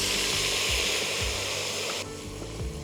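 Hot oil sizzling as a green chili paste of hot and mild chilies goes in for a potato gravy, a steady bright hiss with faint crackles that drops slightly in intensity partway through.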